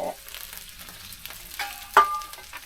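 Steak and ribs bubble and sizzle in a pan on a wood-burning stove, a soft, close crackle with a few sharper pops and no talking.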